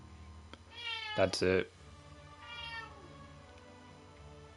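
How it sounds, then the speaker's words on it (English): A pet cat meows a few times close by in a quiet room, the calls rising and falling with a brief spoken phrase in between, followed by a fainter meow. "my cat is meowing"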